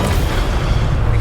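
Incendio fire spell cast in the Hogwarts Legacy video game, a brief loud burst of roaring, booming fire noise filling the whole moment without talk.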